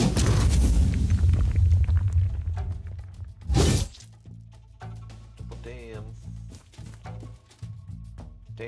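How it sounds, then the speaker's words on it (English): A chain lightning spell strikes in the fantasy tactics game King Arthur: Knight's Tale, a heavy crackling rumble and a sharp shattering burst giving way to quieter game sounds and music. "The chain lightning hit if I ever saw one."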